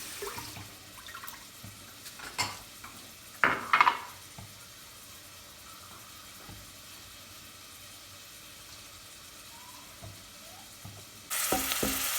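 Onions slowly sauté in a pan, giving a quiet, steady sizzle with occasional stirring clicks and a louder scrape partway through, without talk.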